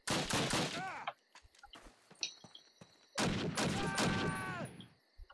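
BAR automatic rifle fire in a Call of Duty video game: two rapid bursts of loud, cracking shots, the second longer, with shell and impact clatter and scattered quieter shots between them.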